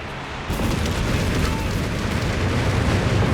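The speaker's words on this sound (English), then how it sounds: "Comes a frag bomb, so this could be nasty." A frag bomb blasts in the World War II strategy game Company of Heroes 3, a loud, dense roar that erupts after a brief quiet moment and rumbles on steadily without fading.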